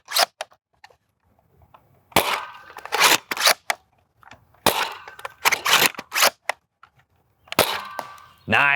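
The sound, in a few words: Wrenfield shell-firing foam blaster shots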